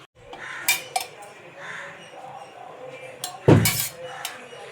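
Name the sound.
pressure cooker being set on the stove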